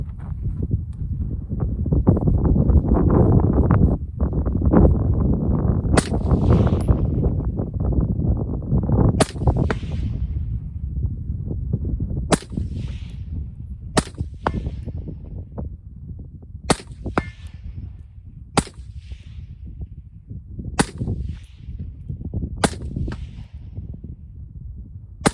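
Shots from a Smith & Wesson M&P 15 Sport II AR-style rifle fired at a target 150 yards out, sharp loud cracks spaced a few seconds apart, about eight in all over steady outdoor wind rumble.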